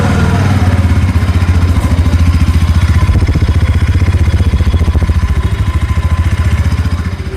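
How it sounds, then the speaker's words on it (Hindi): A Bajaj Pulsar NS200 (2026 model) motorcycle exhaust runs at a steady, bassy idle. The throb is close and loud with an even rapid pulse and no talk over it. "अब हम जाते हैं NS 200 की साइड, उसका एग्जॉस्ट साउंड सुनते हैं कि वो कैसा है।"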